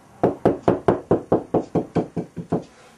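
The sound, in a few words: knocking on a cavity wall to find a stud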